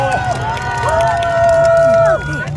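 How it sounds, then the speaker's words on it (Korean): A large crowd at an outdoor presidential election rally in Daegu cheers and shouts loudly and continuously, with sustained voices and a dense babble of noise and no single voice standing out. "여러분 다시 한번 뜨거운 박수 부탁드리겠습니다"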